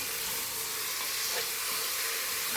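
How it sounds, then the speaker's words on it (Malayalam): Bone-in beef pieces and tomatoes hiss and sizzle in a pan for beef curry while being mixed, a dense, continuous close frying sound with no talking. "അര കിലോ ബീഫ് നന്നായിട്ട് കഴുകി വൃത്തിയാക്കി വെച്ചത് എല്ലോട് ഉള്ളതാണ് എടുത്തിരിക്കുന്നത് അതും കൂടി അങ്ങ് ചേർത്ത് കൊടുക്കാം ഇനി ഇതെല്ലാം കൂടി നല്ലതുപോലെ ഒന്ന് മിക്സ് ചെയ്ത്"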